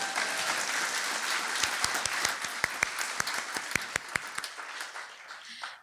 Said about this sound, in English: Oh, that needs an applause right there.